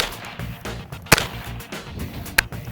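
Gunfire at a shooting range, two sharp separated cracks over a low murmur of background noise, heard from a moderate distance.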